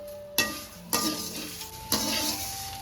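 Drumstick leaves dry-roasting with salt in a pan, stirred with a few sharp scraping strokes over a soft, steady crackle, heard close with no talking.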